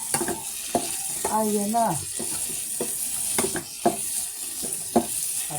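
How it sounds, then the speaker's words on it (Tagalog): Cabbage, onion, garlic, tofu and ground meat sauté with a constant hiss and occasional stirring clatter, while a person speaks briefly over the frying. "pag nagisa na natin ito lahat, yung sibuyas, bawang, repolyo, tokwa, giniling"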